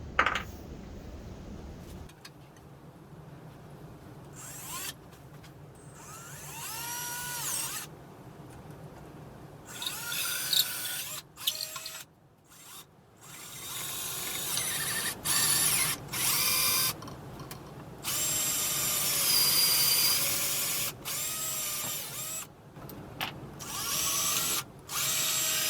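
An electric drill bores a hole into a wooden guitar body in several bursts, whining bursts of motor speed separated by pauses and quieter handling noise, with no talking.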